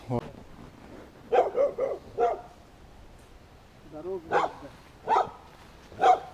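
A dog barks in short bursts a few times at moderate distance beside a forest river, with a person talking in Russian between the barks.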